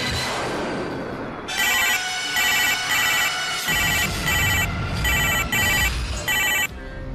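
Phone ringing for a call, a bright electronic ringtone in repeated short bursts over a background of music, loud and close.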